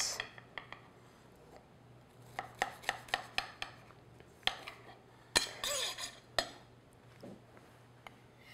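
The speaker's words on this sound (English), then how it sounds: "So let's cut a slice." A knife cutting a slice of yogurt cake on a plate, quiet scattered clicks and taps of the blade and dish, with a few louder clinks near the end.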